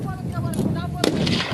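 Gunfire during an armed fight at a fortress compound in Afghanistan, heard as a few sharp reports over a dense, noisy battle background, with one loud crack standing out near the end.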